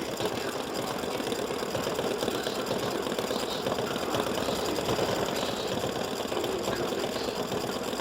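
An embroidery machine stitches a free-standing lace gnome heart pendant, making a fast, steady mechanical whir and rapid needle patter that runs evenly throughout.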